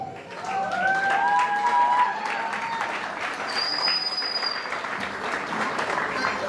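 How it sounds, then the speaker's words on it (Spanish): Applause at a quinceañera in an event center, a crowd clapping steadily and warmly throughout, with a few whistles and cheers on top. "Vamos a darle un fuerte aplauso"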